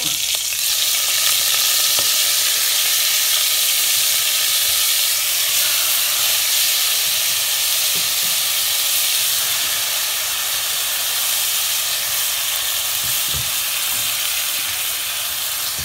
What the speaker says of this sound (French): Allez, mon huile est bien chaude. Je mets mes calamars.